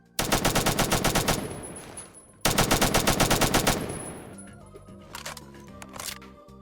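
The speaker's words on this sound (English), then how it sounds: "This is what the STG-44 sounds like." An STG-44 assault rifle fires in the first-person shooter Phantom Forces: two loud bursts of rapid automatic fire, each lasting about a second or two, the second trailing into fading echoes and softer clicking handling sounds.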